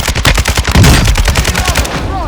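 Loud, rapid automatic gunfire hammers at a car in the Warzone 2.0 video game, a dense unbroken stream of close, sharp shots that fills the whole moment without any talking.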